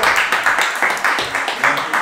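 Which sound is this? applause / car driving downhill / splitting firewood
applause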